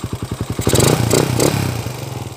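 A Honda TMX125 motorcycle engine with a 200cc conversion, a loud close-up thumping idle with regular pulses that rise into a brief rev with rattling clatter, then settle back.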